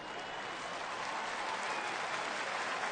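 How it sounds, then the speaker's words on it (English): A stadium crowd at a college football game applauds steadily as an injured player sits up, the broad clapping sustained and even throughout with no clear voices above it. "that's what gets everybody here collectively to exhale and applaud"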